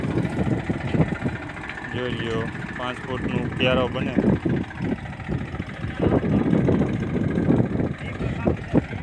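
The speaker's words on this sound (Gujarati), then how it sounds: "મેસી ફર્યુઝન 241 ટ્રેક્ટરથી" A Massey Ferguson 241 tractor sowing red onion seed in a slightly damp field runs with a steady engine drone, heard under someone talking throughout.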